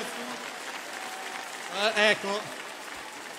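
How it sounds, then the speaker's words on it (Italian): Applause from a concert audience at an Italian hit-music show runs as a steady wash of clapping beneath someone speaking Italian over it, with a brief louder burst of voices in the middle. "io vorrei che gli faceste un bel applauso"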